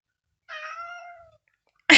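A cat gives a single clear, drawn-out meow close by, followed by a sudden short noise after a brief silence.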